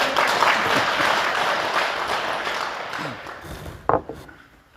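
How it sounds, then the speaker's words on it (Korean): Audience applause in a Buddhist lecture hall at Samhaksa temple in Masan, honoring a bell ringer; dense steady clapping that thins out and fades near the end. "이렇게 아름다운 종소리를 쳐주시는 총무님께 박수를 한번 쳐주세요"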